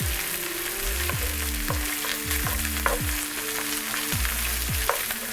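Chicken sausage, paprika and other ingredients being folded and stirred in a hot pan, with steady sizzling broken by repeated low scraping strokes of the spoon every second or so, close and continuous.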